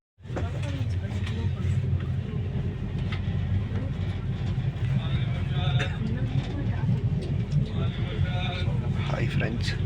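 Passenger train travelling out of Chennai, a steady close rumble and clatter of wheels on track throughout, with faint scattered background sounds.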